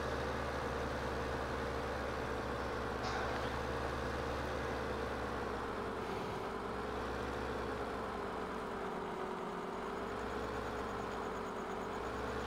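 A tractor engine drones in a farming video game, a steady low hum with a faint whine above it, continuous and even for the whole stretch, no talk.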